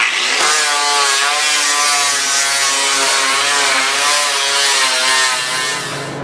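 A grinder fitted with a 24 grit pad bites into metal, producing a loud, harsh, continuous rasping whine with wavering pitch that holds for about six seconds and eases slightly at the end.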